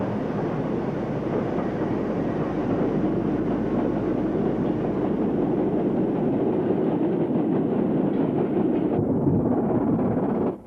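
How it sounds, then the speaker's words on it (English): A Stanier Class 8F steam locomotive hauling a freight train off the Daventry line, a steady rolling rumble with faint rail clatter held at a moderate distance for about ten seconds, then cutting off abruptly. "And the Stanier Class 8F brings this freight working off the Daventry line."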